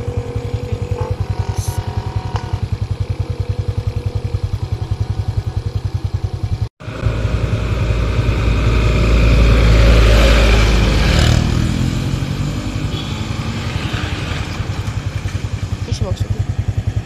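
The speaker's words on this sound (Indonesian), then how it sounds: "Ada motor ya." A motorcycle on a rural road in Saparua, Central Maluku, rumbles in a steady, loud drone, then swells louder as it passes close by around the middle before easing off again. A brief cut breaks the sound partway through.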